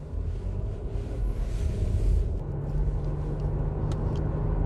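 A 2018 Genesis EQ900 sedan pulls away hard from a high-speed start, its engine and road rumble heard from inside as a continuous loud drone with wind noise, rising slightly midway.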